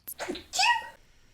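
A single quick sneeze on a terrace, with a sharp intake and a louder two-part burst, fairly quiet and close, followed by silence.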